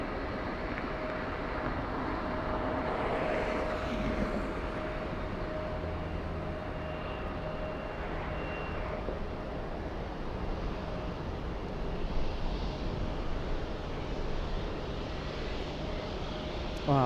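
An airliner takes off from runway 24 left at LAX with a steady, distant jet roar that holds for the whole stretch, fairly faint against outdoor background noise.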